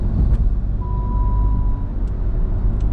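A car driving on a road with a 90 km/h speed limit, a steady low engine and road rumble running throughout, loud and close, with no voices.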